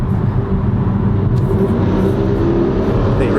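Cars race on a street, a loud, dense engine rumble with rising revving, heard from close by inside a moving vehicle.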